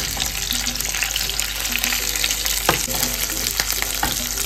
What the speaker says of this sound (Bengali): পেঁয়াজটা দিয়ে আমি আবার পেঁয়াজটা একটুখানি ভেজে নেব